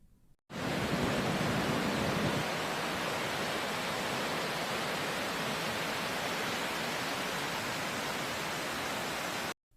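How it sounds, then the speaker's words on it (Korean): Snowmelt water rushing down from the edge of the Himalayan snow mountains, a steady, dense roar of flowing water that holds constant and loud from start to finish, with no voices. "히말라야 설산의 끝자락에서 눈이 녹아 흐르는 물소리를 들어보시지요"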